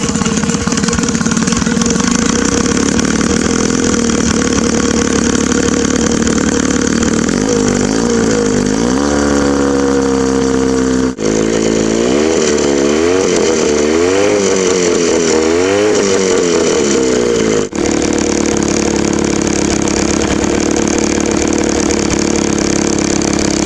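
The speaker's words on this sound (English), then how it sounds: "This is what the boat sounds like inside the tiny house, and it's running out of gas." The outboard motor of a homemade pontoon boat runs loud and close indoors for a long stretch, a buzzy, chainsaw-like drone whose pitch rises and wavers through the middle as it runs out of gas.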